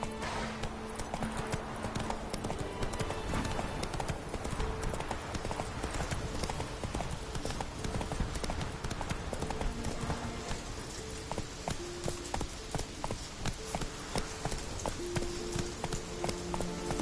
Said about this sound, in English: Let's go! Whoa there, Roach